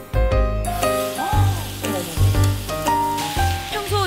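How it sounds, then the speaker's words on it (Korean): Raw sulfur-fed duck meat from 40-day-old ducks sizzles on a grill, a steady crackling fry that runs the whole time beneath clear melodic tones. "맛있게 지글지글 익는데 겉보기는 삼겹살 같기도 하죠"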